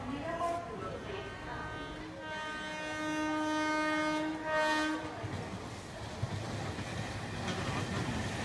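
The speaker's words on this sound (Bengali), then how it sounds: "হাওড়া যাওয়ার ট্রেন ওই যে ট্রেন হচ্ছে" A passenger train bound for Howrah arrives at a station, sounding a long, loud horn over rumbling wheels and carriage clatter, followed by steady rolling noise and a sharp knock, with voices talking nearby.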